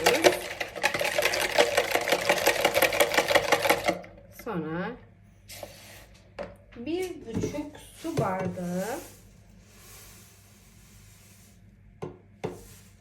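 Eggs whisked with vanilla for a carrot cake batter, a steady fast rattling whir that runs loud for about four seconds, then stops as someone talks with short clinks between.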